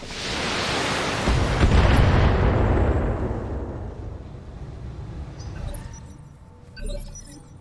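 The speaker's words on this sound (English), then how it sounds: "Ammo explosion blows Enemy off mech." Ammunition cooking off inside a battlemech in BattleTech, with an urban battle setting: a loud, sustained roaring blast that rumbles heavily and decays over several seconds, followed by a smaller crackling burst near the end.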